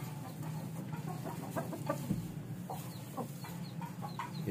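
Burmi ring birds, a breeding pair in a straw-bedded pen, cluck and call in short repeated bursts over a steady background din, fairly close and moderately loud.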